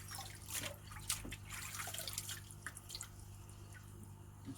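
Water trickles and drips from pond filter media sponges being rinsed in pond water, a close, quiet run of irregular splashes and dribbles.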